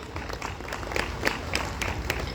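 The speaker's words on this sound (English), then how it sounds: "Let's give a huge round of applause for these winners" An audience at a school annual function applauds the prize winners with steady, moderately loud clapping from many hands that fills the short moment.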